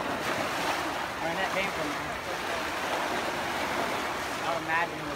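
Pacific Ocean surf and wind wash steadily along a cold Seattle-area shoreline in a continuous roar, with people talking briefly over the waves.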